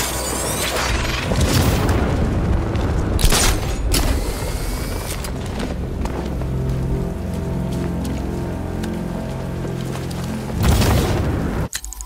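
Gunfire and heavy booms from weapons in the video game Batman Arkham Knight, loud and dense throughout, with a rain-like clatter of shots, several sharp bursts and a big blast near the end.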